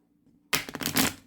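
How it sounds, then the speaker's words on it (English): Riffle shuffle of thin-stock oracle cards from a seasonal deck: a sudden burst of dense, crisp fluttering clicks after a quiet moment, close and fairly loud, with no voice. "you see that I can riffle shuffle, which is kind of nice."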